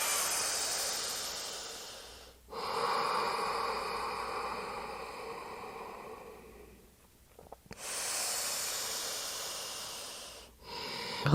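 Slow, deep breathing during a seated yoga exercise: long airy inhales and exhales, close and clear, with brief pauses between breaths and no talking.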